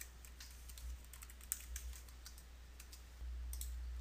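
Soft, rapid keystrokes on a computer keyboard as a username and password are entered, quiet and close with light irregular clicks and a low steady hum beneath.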